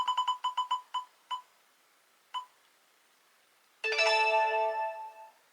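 A prize wheel spins with rapid electronic beeps that slow and space out as it stops, followed by a bright chiming jingle.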